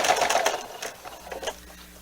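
Home sewing machine stitching binding onto a quilt, a steady, rapid mechanical whirring with a faint rhythmic clatter of the needle, close and alone, easing slightly after the first half-second.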